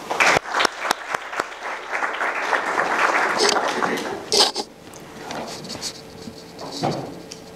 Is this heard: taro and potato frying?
no